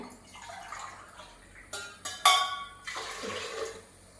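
Water splashes and pours into a metal pressure cooker of rice for biryani in a few short bursts, fairly close, with a soft hiss before and after.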